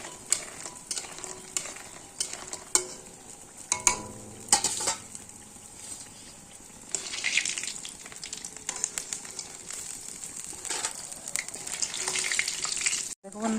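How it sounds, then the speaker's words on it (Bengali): Bori lentil dumplings fry in hot oil in a kadai, giving a steady close sizzle broken by scattered clinks and scrapes of a stirring utensil; no one speaks. "বড়িটা কিন্তু আমি ভেজে তুলে নিলাম"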